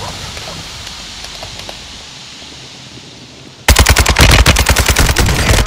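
Automatic machine gun fire in the shooter game Warzone 2.0 erupts after a few seconds of quiet outdoor ambience, a loud, close, rapid stream of shots.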